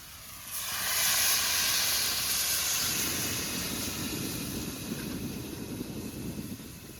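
Water poured into a hot pan of mixed vegetable curry sets off a loud, steady steam hiss that swells in the first second, then settles into a sustained sizzle with bubbling underneath.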